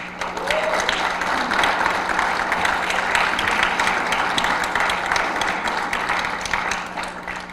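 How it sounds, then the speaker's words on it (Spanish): Loud, sustained audience applause fills a conference hall at an event on Mexico's National Anticorruption System, with steady dense clapping throughout and no pauses. "un fuerte aplauso"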